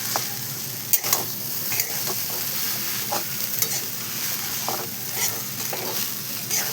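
Leftover rice being stirred in a sizzling pan for egg rice, steady frying hiss with intermittent scraping strokes of a spoon, close and alone without talk.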